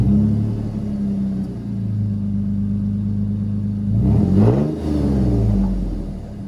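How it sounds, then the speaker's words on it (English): A fifth-generation Toyota 4Runner with a MagnaFlow muffler and generic tip idles with a low, smooth, fairly quiet exhaust rumble, briefly revving once before settling back to idle. "For exhaust, I just have a MagnaFlow muffler and just some generic tip."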